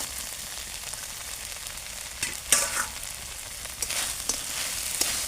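Fried fish head dropped into a pan of cooking taro and vegetables, then stirred: a steady soft sizzle with a few louder bursts of scraping and clatter, close up and without any talk.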